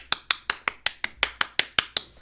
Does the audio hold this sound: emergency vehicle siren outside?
no